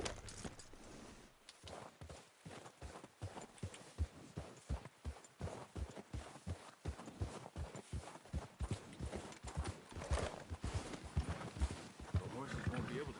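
In the video game Red Dead Redemption 2, horses walk with a steady, rhythmic clip-clop of hooves that runs throughout, mixed with game ambience and a voice at times.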